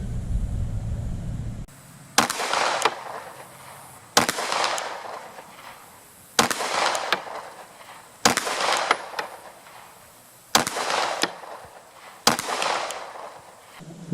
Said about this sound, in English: gonna do some more body shots on that cardboard